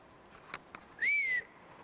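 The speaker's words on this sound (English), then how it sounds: "There's the whistle." Out in the woods, a single short whistle rises and then falls away at moderate distance, preceded by a couple of faint knocks, with no talking.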